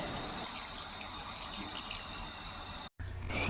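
A glass of water is poured into a pan of clams being cooked for clam thoran, a steady watery pour running for about three seconds before a brief cut and a quieter tail.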